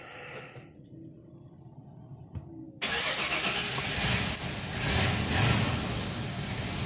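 A 1970 Lincoln Continental cranks and fires up: after a quiet interior with a faint electrical whine, the engine catches abruptly and settles into a loud, steady idle that swells slightly as it runs.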